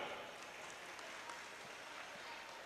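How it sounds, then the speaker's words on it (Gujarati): An audience at a civic gathering in Jhalawad applauds for the citizens, a faint, steady wash of many hands clapping that continues evenly, low and distant. "એટલે નાગરિકો માટે એક તાળી પાડો."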